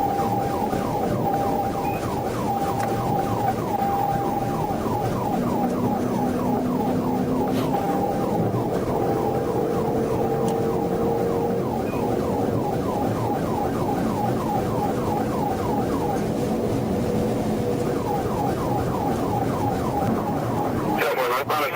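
A police trooper's siren wails in a continuous rising-and-falling cycle during a high-speed pursuit heading northbound toward the Seven Mile Bridge, loud and steady over road and engine noise.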